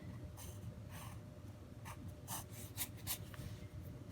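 A pen scratches on paper, writing out a morning schedule by hand. Short, quiet scribbling strokes come in irregular bursts over low background hum, with no talking.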